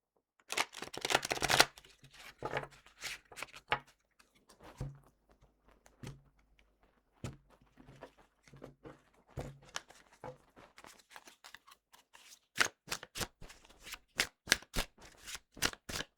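Revelations Oracle card deck being shuffled by hand, a burst of dense riffling followed by scattered card taps and snaps, then a run of sharp, evenly spaced slaps near the end, close and alone.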